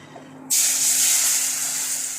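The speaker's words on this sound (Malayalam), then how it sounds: "വെള്ളം നല്ലതുപോലെ തിളച്ചത് നമുക്കിതിലേക്ക് ഒഴിച്ചു കൊടുക്കാം" Boiling water poured into a pan of frying spices and curry leaves for a fish curry erupts into a sudden loud, steady sizzling hiss after a brief quiet start, holding close and strong until the end.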